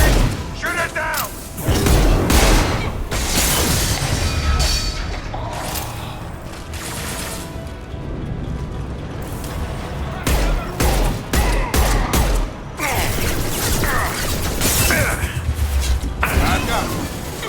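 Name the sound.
gunfire from video game Mass Effect 2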